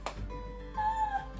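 A single short cat meow rises close by over a steady low hum, brief and moderately loud.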